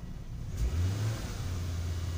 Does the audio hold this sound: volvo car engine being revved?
yes